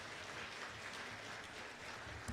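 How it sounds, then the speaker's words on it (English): Conference audience applauding at the close of a final session, a steady, soft wash of many hands clapping that sounds somewhat distant and continues throughout without voices. "they deserve a big, big round of applause for wrapping up"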